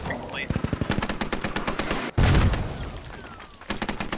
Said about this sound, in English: And mortars inbound. These are landing in the courtyard this time.